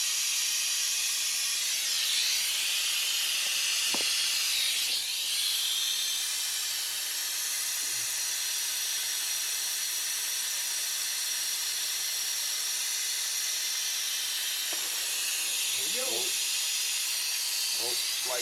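A noisy vacuum sucker pulls air out of a chamber on a dirt late model race car's fuel line, giving a steady loud hiss throughout with a few brief knocks and faint talk toward the end.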